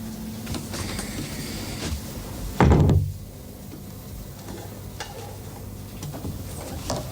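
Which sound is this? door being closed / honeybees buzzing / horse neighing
door being closed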